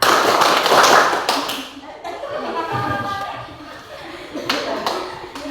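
Repeated hand claps in a steady counted rhythm at a junior high school, fairly close, mixed with a voice calling out counts in Indonesian between them.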